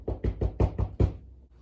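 Someone knocks on a door six times in a quick, even rhythm. The thuds are loud and close, and the last knock fades into quiet.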